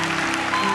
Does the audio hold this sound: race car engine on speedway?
no